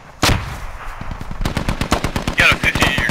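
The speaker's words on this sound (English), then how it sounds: "Those rounds sound close." Rapid gunfire in the military video game Squad, an opening loud shot followed by a fast rhythmic string of close rounds, with a brief whistling tone near the end.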